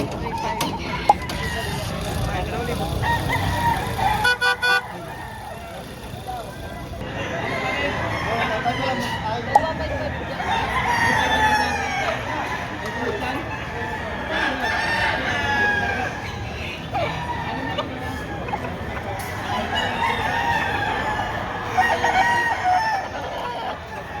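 At a chicken market in Padre Garcia, Batangas, roosters crow repeatedly amid busy clucking hens, with people chatting and children's voices in the background throughout.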